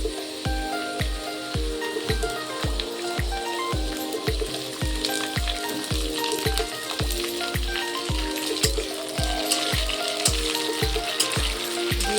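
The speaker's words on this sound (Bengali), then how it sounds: "এর মধ্যে এখন ফুলকপিটা দিয়ে ভাজবো খানিক্ষণ" Cauliflower florets frying in oil in a pan after browning, giving a steady close sizzle that runs throughout beneath a regular, rhythmic low thumping beat.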